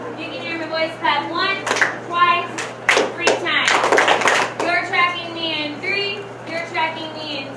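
Children clapping hands in unison in a classroom, several sharp bursts of claps in a rhythmic pattern mixed with kids' voices and chatter throughout.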